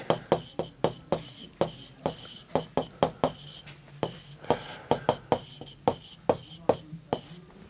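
Chalk or pen writing out coordinates during a Class 12 three-dimensional geometry lesson: a steady run of sharp, close tapping strokes in quick rhythmic bursts, with a teacher's speech faintly in the background.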